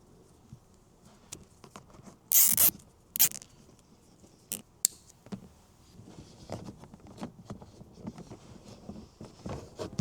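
A plastic zip tie ratchets tight around bunched dashcam cable inside a Lexus, with a sharp zipping burst, a few quick clicks after it, and soft handling rustle around them.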